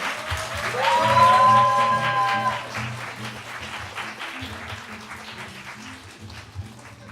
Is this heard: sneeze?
no